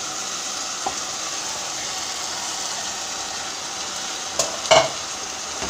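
Boiled rice is stirred into fried capsicum in a pan for chicken fajita rice, giving a soft steady sizzle with a few scraping clinks of the spoon near the end.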